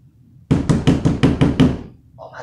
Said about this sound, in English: who the fuck banging on my door like that?